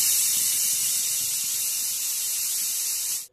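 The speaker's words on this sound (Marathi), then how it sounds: "तर कुकरच्या 3 शिट्या झालेल्या आहे" A kitchen pressure cooker whistle lets off steam in one loud, steady, high-pitched hiss that stops abruptly.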